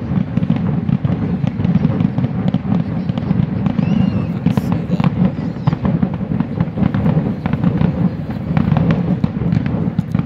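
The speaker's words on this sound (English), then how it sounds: "it's a bunch of fireworks blowing up in the sky" Fireworks explode continuously in the distance, a steady run of rumbling booms and crackles with no pauses.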